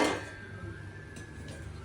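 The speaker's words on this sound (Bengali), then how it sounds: "তাহলে আমি এখন গ্যাসটা জ্বালাচ্ছি, কড়াই চাপিয়ে" A wok is set down on a gas stove with a single sharp metallic clank at the start, followed by a low, quiet hiss and faint kitchen clatter.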